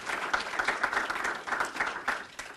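A crowd applauds at a moderate distance, a steady wash of clapping hands with no voices over it.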